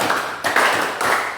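Students in an Indonesian classroom give a short burst of clapping for group 4, a few quick rounds of loud, close applause in rhythmic bursts, with no talking over it.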